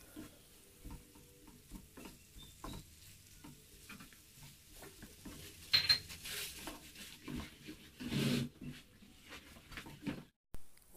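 A wooden spoon stirs a Moroccan dessert filling in a pot: soft, slow scraping and occasional louder knocks against the pot, quiet and close with no talking.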